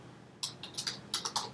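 Fingers tap on a keypad to enter data into a spreadsheet app, a string of light, close, irregular taps with a short pause partway through.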